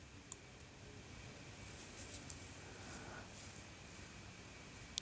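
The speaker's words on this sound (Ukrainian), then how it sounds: "Тут застібка хомутик і він клацає." Hinged clasp on a piece of vintage costume jewellery in stamped metal with rhinestones, giving two small, sharp clicks, one near the start and one at the very end, faint against a quiet room hiss.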